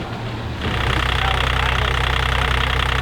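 Sailboat's inboard engine idles, then revs up about half a second in and holds a louder, steady throbbing drone, close by.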